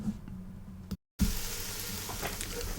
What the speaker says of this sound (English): Fry, soften your onion and your celery.